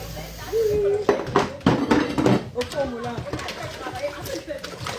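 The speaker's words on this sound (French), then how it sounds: "Je fais la vaisselle." Dishes and cutlery clatter in a home kitchen sink as they are washed, with irregular clinks and knocks under near, continuous talking by several voices.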